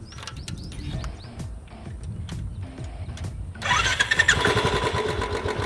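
A motorcycle engine cranks with a starter whir and then catches, running steadily and loudly at idle while the carburettor burns off its remaining petrol.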